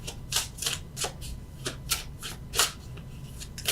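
Tarot cards are shuffled and handled in a quiet room, with bursts of riffling and soft card slaps coming in an irregular rhythm, close and fairly faint, with no talking.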